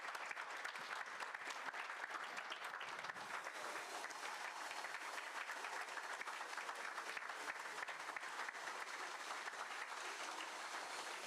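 Faint, distant applause from an audience at a car cover launch event, a steady wash of clapping without a break and no clear talk over it.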